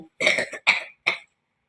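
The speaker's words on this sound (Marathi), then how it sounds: "खोकला खोकाय लागली" Three short, sharp coughs in quick succession, close by, the first one slightly longer, followed by quiet.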